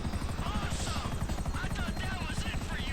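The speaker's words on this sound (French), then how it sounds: "There's a attack chopper coming after me" An attack helicopter in GTA V throbs with a steady, dense rotor chop throughout, loud and continuous, with faint crackles like distant gunfire and a voice mixed underneath.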